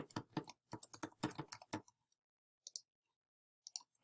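Typing on a computer keyboard to enter a page headline on a website builder, with a quick close burst of key clicks, a pause, then a few scattered keystrokes.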